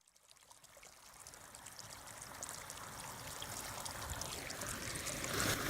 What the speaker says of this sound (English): I'm by a different water feature now in Pai in northern Thailand.